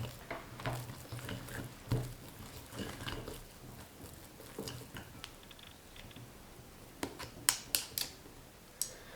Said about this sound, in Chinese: 10分钟以后，我们再次把面搅光、搅匀